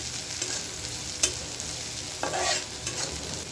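Onion and garlic frying with mustard seeds in a pan, a steady soft sizzle with a few brief clatters of stirring, close by and alone without talk.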